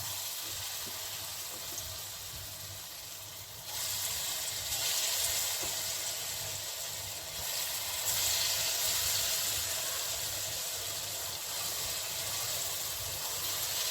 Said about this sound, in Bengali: এখন আমি ডালের বড়াগুলোকে ভেজে নিচ্ছি